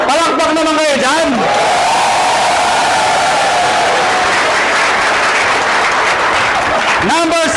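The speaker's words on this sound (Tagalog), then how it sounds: "Palakpak naman kayo dyan." An audience at an AIM Global business presentation breaks into loud, sustained clapping that fills several seconds, with a voice speaking briefly before and after the applause.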